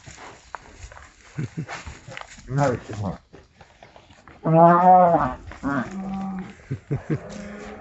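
Cattle moo a couple of times, one long, loud low-pitched call standing out, amid scattered thuds and shuffling nearby at spring pasture.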